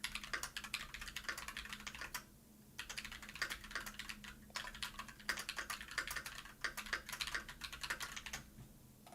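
Rapid clicking of a computer keyboard as a comment is typed, close and fairly quiet, in bursts of keystrokes separated by brief pauses, with no voices.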